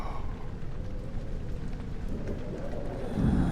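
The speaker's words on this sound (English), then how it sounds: "in my right ear I'm hearing like thunder, like loud thunder" Loud, continuous low rumble of thunder with a rain-like wash in the horror game Amnesia: The Dark Descent. It rolls steadily throughout and swells near the end.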